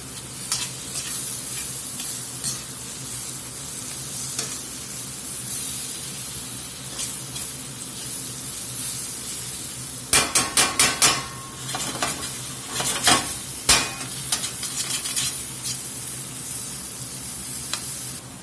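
A tablespoon of minced garlic sizzles in a pan for beef stroganoff, a constant hiss of frying broken by a cluster of sharp utensil scrapes and clinks partway through as it is stirred.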